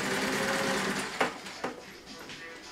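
A sewing machine stitching two pieces of quilt fabric together, a fast, steady mechanical whir that stops, followed by a few sharp clicks and taps, close by with some faint talking.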